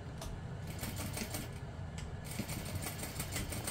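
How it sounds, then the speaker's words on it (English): A sewing machine runs steadily while stitching a seam on a small apothecary handbag, giving a fast, even mechanical chatter with a low motor hum, fairly faint and uninterrupted. "we're just going to sew that together using a half inch seam allowance"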